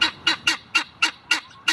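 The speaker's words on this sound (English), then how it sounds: "So if you don't want to hear a guinea making this sound here," Guinea fowl give a loud, harsh, rhythmic call, seven sharp repeated cries in quick even succession, close by.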